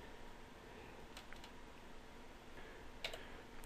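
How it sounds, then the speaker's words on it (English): Quiet typing on a computer keyboard, with a few soft, scattered key clicks over a faint background hiss and no talking. "You type in gpedit.msc and then hit enter."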